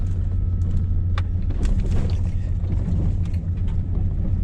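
Quad ATVs ride along a rutted trail at dusk, the engines a loud, continuous low rumble with rattles and bumps from the rough ground, close and unbroken throughout.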